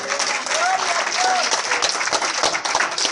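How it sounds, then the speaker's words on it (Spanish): A church congregation applauding during a Spanish-language service, steady dense clapping throughout with voices and a few shouts mixed in. "Dale un aplauso a Cristo en esta hora."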